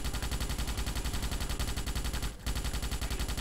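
Continuous rapid automatic gunfire in the 2005 video game Starship Troopers, a dense rhythmic stream of shots with a brief dip partway through, no talk.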